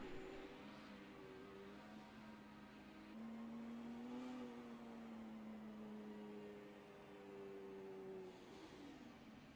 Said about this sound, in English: I believe I heard him just revving his engine.